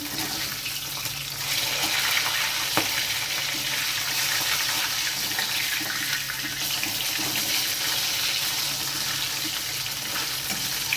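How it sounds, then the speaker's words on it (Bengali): Flipped katla fish pieces sizzle in hot oil in a wok, giving a continuous hissing crackle at an even level throughout, with one brief sharper pop and no talking. "মাছগুলো আমি উল্টে দেবো।"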